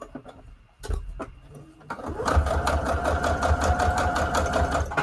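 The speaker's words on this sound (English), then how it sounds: "let me sew this down first. 1 second. Let me do a straight stitch. Super long." A sewing machine stitches a long straight seam on a junk journal tag, opening with a few sharp clicks before the motor starts and then running steadily, with a rapid, even needle chatter that is close and fairly loud.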